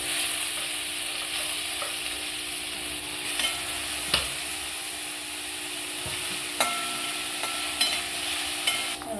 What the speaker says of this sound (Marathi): तेल टाकू, 1 चमचा तेल टाकलं। आता त्यामध्ये आपण कांदा परतून घेऊ।